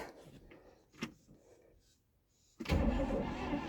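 A 1965 Pontiac Grand Prix's 389 V8, a barn find sitting over 25 years, is quiet apart from a few faint clicks. Then it cranks over suddenly, loud and close, and keeps cranking steadily to the end.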